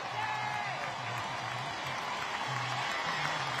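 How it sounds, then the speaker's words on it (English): A stadium crowd at a women's soccer match cheers and applauds in a steady roar, with a low repeated chant or drum beating through it. "You hear the crowd."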